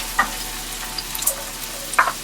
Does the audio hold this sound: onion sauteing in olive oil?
yes